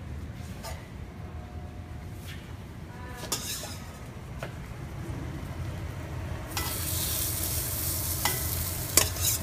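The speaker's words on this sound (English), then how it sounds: "hopefully you can hear that sizzle. It's grilled asparagus." Asparagus tossed with olive oil, salt and pepper sizzles on a hot grill pan with a steady frying hiss. The hiss grows louder partway through, and an occasional clink of a utensil stirring sounds above it.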